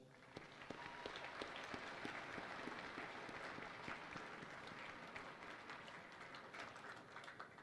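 A large audience in a high school assembly hall applauds the school band at a Veterans Day event, with dense, steady clapping that holds loud for the full stretch and a few cheers mixed in.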